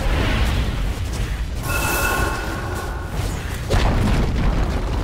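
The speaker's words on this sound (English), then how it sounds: "Dire's top tower has fallen." Rumbling crash of a defensive tower collapsing in Dota 2, a loud broadband boom with a brief tonal shimmer, set against steady game noise for about five seconds.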